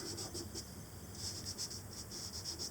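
Soft, rhythmic rubbing strokes on paper, quiet and close, like a finger smudging charcoal in short repeated passes.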